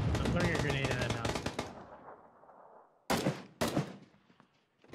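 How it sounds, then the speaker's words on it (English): Full-auto gunfire in a shooter video game: a dense rapid burst of shots up front, a fading tail, then two more short sharp bursts, loud and close. "It was like full 360 fucking full auto, and then Ann jumps out the window."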